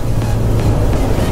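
A Hyundai Veloster N accelerates hard from a standstill, giving a loud, close, continuous engine roar with a broad rumbling rush that holds steady through a short burst.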